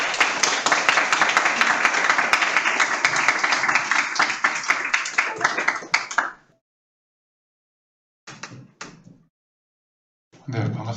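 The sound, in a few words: audience applause welcoming a lecturer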